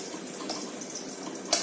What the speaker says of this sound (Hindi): किशमिश मैंने धोया है इसलिए थोड़ा सा आवाज कर रहा है